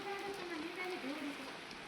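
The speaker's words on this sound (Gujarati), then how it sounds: "વરસાદ ચાલુ છે મિત્રો." Rain falls steadily outdoors during a monsoon downpour, a soft even hiss at low level, with a faint voice or tone drifting over it.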